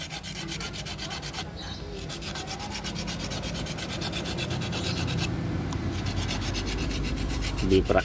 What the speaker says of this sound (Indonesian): menggunakan batu asahan ini juga lebih praktis